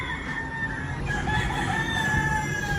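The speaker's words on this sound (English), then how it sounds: "There's a lot of roosters, as you can hear, crowing down there." Several roosters crow back and forth in the Philippines, long drawn-out calls overlapping at moderate distance over a steady outdoor background.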